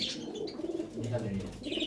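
Teddy pigeons released together, with soft cooing and chirps close by amid faint rustling, under someone speaking.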